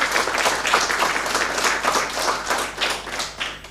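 An audience at a school spelling bee competition claps for a primary school contestant, a close, lively round of applause with uneven pulses that runs throughout.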